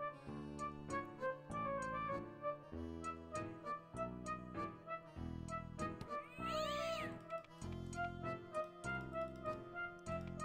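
A cartoonish cat meows over and over in the puzzle game Pilot Brothers 3, with short, even, repeated cries that keep a steady rhythm and stand alone with no talk.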